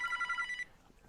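A telephone bell rings in a hallway, the phone sitting on a small round table; bright rapid trills repeat for about half a second and then cut off, leaving quiet room tone.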